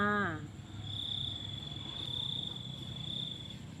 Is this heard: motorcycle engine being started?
no